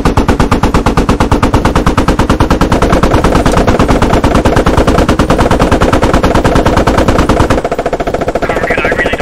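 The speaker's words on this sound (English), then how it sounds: "In the open, both gunners engage." Sustained machine-gun fire from M1 Abrams tank guns in the video game Squad, a loud, rapid, unbroken stream of shots at close range that runs for the full stretch without pause.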